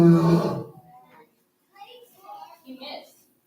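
A tiger roar in a school play of The Jungle Book, one loud, harsh roar at the start, followed by a quiet gap and then children speaking.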